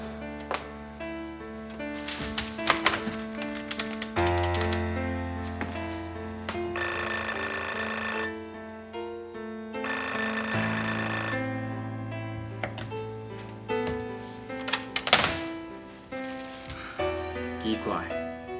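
A telephone rings repeatedly with no one picking up, the bursts of ringing recurring over a continuous musical background, moderately quiet and without talking.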